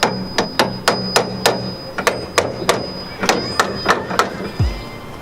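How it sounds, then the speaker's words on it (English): Repeated sharp metallic hammer strikes ring out close by, about a dozen blows in quick uneven bursts, knocking out a strut on a Hyundai Genesis Coupe, with a faint high whine underneath. "You might need to knock it out with like a hammer first."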